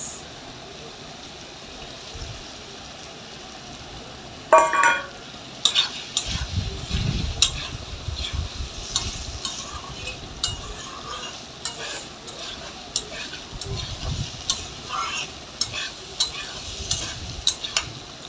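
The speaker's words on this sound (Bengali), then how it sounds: "সুন্দর করে কষিয়ে নিলাম" Vegetarian soybean curry sautéing in a pan, with a soft sizzle and repeated scraping stirs of a spatula against the metal, plus occasional clinks, close and moderately loud.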